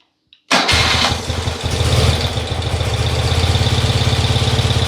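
A motorcycle with a noisy engine and a charging fault cranks and fires up abruptly, then settles into a loud, steady, rhythmic idle close by, with no talking.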